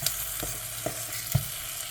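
Banana fritters sizzle softly in a pan over gentle heat, a steady hiss with three brief clinks or stirring knocks spaced across the moment, fairly close and with no talking.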